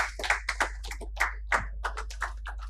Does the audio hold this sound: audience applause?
yes